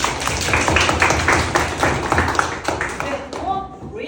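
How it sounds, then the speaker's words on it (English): A fourth-grade English class of children clapping their hands together in a classroom, a loud run of quick, slightly ragged claps that fades out, with a voice speaking at the end. "Clap your hands, please."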